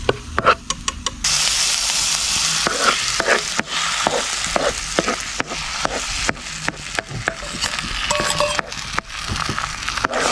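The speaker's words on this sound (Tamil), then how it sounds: "அடுத்தது நம்ம உடச்சி வச்சுக்கிற அந்த காடை முட்டையை அப்படியே ஊற்றணும்" Beaten quail eggs hit a hot pan in a Sri Lankan village kitchen and sizzle loudly, with a burst of frying followed by repeated scraping, clattering stirs throughout.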